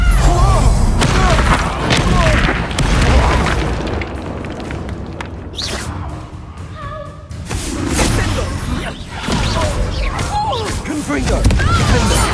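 Confringo blast spells exploding in Hogwarts Legacy, several loud booming impacts with crashing debris bursting repeatedly across the span, mixed with spell effects and character voices.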